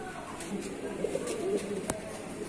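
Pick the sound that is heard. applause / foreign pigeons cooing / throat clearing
foreign pigeons cooing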